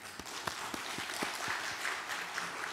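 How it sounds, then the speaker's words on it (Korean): A congregation applauds during a Sunday service at Hannam University Church, soft, scattered claps with a few sharper individual hits standing out, heard faintly from a distance. "우리 잘 다녀오시라고 박수로 한번 격려해 보겠습니다"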